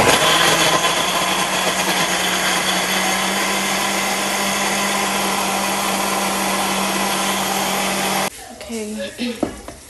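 A kitchen blender whirs loudly and steadily while blending ingredients for a beans stew, a close, constant motor roar with a strong tonal hum, cutting off abruptly near the end, leaving faint clinks and quiet room noise.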